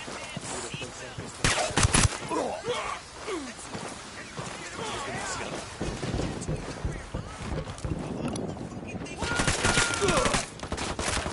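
Gunfire from a PS4 shooter game crackles in bursts, with loud rapid volleys and noisy wind-like rumble, while a voice talks over it intermittently.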